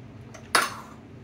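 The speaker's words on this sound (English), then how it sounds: "Stir that around in there." A utensil strikes a pot once while garlic and Old Bay seasoning are stirred around inside, a single sharp metallic clink against a quiet background.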